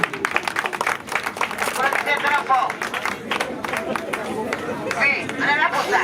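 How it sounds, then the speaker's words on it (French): A crowd at a tournament officials' speech ceremony claps and applauds steadily, dense and fairly loud, with some chatter mixed into the ovation throughout. "Merci de les applaudir."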